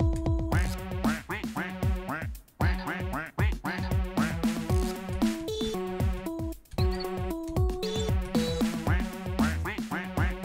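Duck quacking in a Friday Night Funkin' mod: loud, rapid, pitched quacks in a rhythmic, song-like pattern, dense and continuous with brief pauses, no talk.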